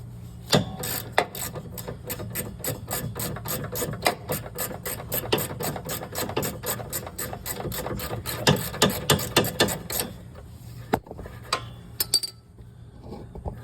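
Ratchet wrench loosening the bottom sway bar link nut on a 2006-2012 Mitsubishi Eclipse clicks in rapid, close bursts of regular ticks, pausing between strokes and slowing to scattered clicks near the end.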